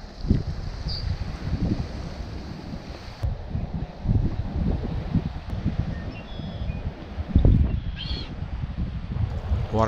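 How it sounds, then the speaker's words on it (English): A crow caws a few times from somewhere behind the listener on an island cay, the calls partly buried under strong wind buffeting the microphone and low rumble. "You got a bird behind you."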